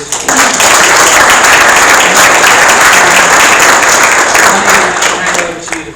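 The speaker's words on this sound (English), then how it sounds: "So can you give the panel a round of applause?" A conference audience applauds a panel at a business planning event, a loud dense wash of many hands clapping that holds steady for several seconds before starting to fade.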